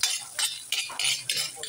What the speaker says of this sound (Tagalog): sangkotsa muna natin ang ating bawang sibuyas